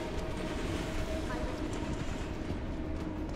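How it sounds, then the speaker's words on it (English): A train in Final Fantasy VII Remake rumbles steadily at a moderate level, a continuous rolling low clatter filling the clip, with voices faintly present beneath it. "maybe it was a train"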